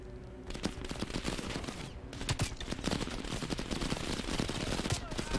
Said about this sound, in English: Oh my god, there's so much gunfire.